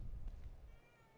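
A cat in The Evil Within 2 gives a faint, short meow from some distance, heard alone with no talk.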